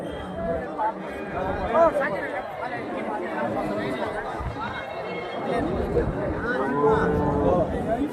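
Native cattle at a busy livestock market in Chintamani, Karnataka, with occasional moos rising through constant crowd chatter and the babble of many traders talking nearby.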